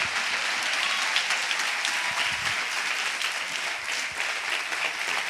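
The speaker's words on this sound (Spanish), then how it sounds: "Si vas a aplaudirle, apláudele al Rey." Continuous applause from a church congregation, thick and steady with many hands clapping at once, holding an even level throughout with no speech on top.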